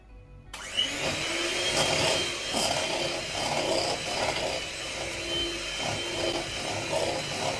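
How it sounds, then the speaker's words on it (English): Victoria sponge batter is whisked by hand in a bowl, making a continuous scraping swish with rhythmic stroke pulses roughly every half second, close and moderately loud. "Now, Whisk it."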